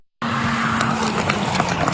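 A fleeing car racing from deputies hits stop sticks, bursting in with a loud sustained tire squeal and engine roar, rough and close, with scattered sharp scrapes and thumps.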